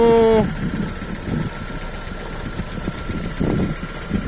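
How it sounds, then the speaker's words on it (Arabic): A running car engine idles with a steady mechanical rumble and irregular knocking pulses from the engine, after a short high tonal whine at the start. "نسمع صوت تقربيع هكا في الموتور"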